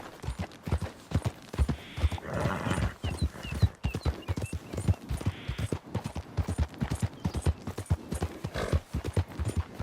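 Horse galloping in Red Dead Redemption 2, its hooves pounding in a fast, steady clip-clop rhythm close up and loud throughout, with a brief whinny partway through.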